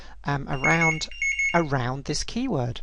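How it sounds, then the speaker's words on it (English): A mobile phone rings briefly with a short, bright electronic chime during a pause in a man's speech, his voice continuing on either side of it. "That was my phone ringing."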